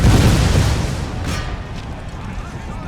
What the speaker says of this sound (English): Come on, lob your grenades.